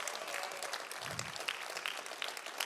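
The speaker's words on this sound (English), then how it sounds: "Let's give God one more hand clap of praise." Church congregation clapping in praise at an evening service, soft and somewhat distant, a brief patter of hands that carries on steadily without speech.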